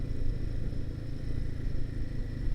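Royal Enfield Himalayan 452 motorcycle on a test ride, its engine droning and pulling from low revs, a steady mid-pitched hum with wind rush, close and continuous, no voices.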